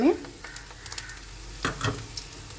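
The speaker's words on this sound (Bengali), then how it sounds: "ভালো করে মশলাটাকে ভেজে নেবো" Spices with onion, ginger and garlic frying in a pan, a soft steady sizzle punctuated by light scraping and stirring clicks, quiet and close.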